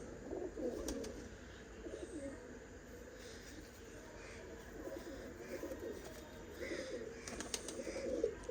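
Champion pigeons, including a teddy-type youngster, murmur low repeated coos in a soft rolling rhythm, quiet and close, with occasional light rustles and clicks and no clear talk.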